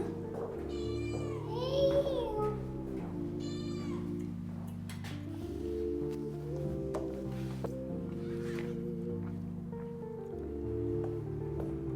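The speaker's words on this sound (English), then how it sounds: "Here comes a cat." A cat meows a few times in short, rising calls near the listener at a heritage site in Al Ahsa, Saudi Arabia, over a steady low background of music or droning tones.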